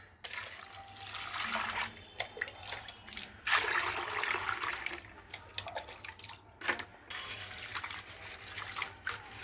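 Tap water runs and splashes while crabs are washed in a basin, a continuous close trickle broken by louder sloshing bursts and brief pauses.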